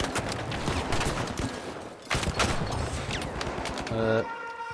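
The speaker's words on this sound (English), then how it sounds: "This is where the grenade launcher shines," Continuous, dense bursts of explosive blasts and gunfire from a video game grenade launcher battle, with a brief lull in the middle and a tonal game sound near the end.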